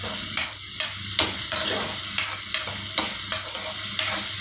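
Eggplant thokku fries in a pan, a constant sizzle broken by regular scrapes of a spoon stirring about twice a second, close up with no voices.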